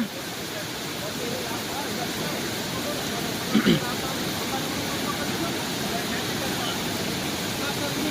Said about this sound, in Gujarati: પાણી એટલું વહે કે અહીંયા ઊભા પણ દેતું નથી